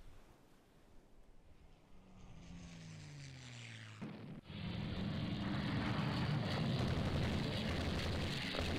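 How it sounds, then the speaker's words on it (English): Aircraft engines drone and rise as enemy torpedo bombers close in during a naval battle in Rule the Waves 2, then a sudden loud rushing roar like a splash or blast takes over and holds. "Oh, those are enemy torpedo bombers."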